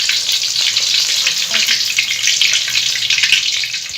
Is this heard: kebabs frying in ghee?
yes